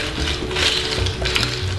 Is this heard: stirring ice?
yes